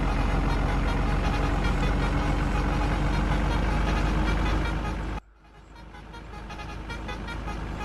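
A truck engine drones loud and steady in a truck simulator video game while overtaking, then cuts abruptly to a quieter, lower rumble that slowly builds again.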